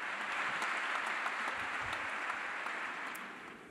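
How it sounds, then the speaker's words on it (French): Warm applause from an audience greeting a speaker on stage, a dense steady wash of many hands clapping that holds for several seconds and then begins to fade. "on l'applaudit chaleureusement"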